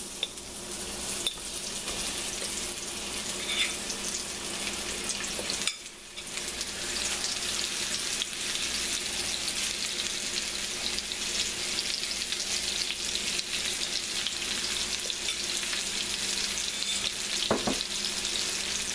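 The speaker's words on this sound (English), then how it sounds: "got a good sizzle" Sliced squash fries in smoking-hot oil, a dense, continuous sizzle heard up close and fairly loud, with a brief dip partway through and a light clink of a utensil near the end, no voices.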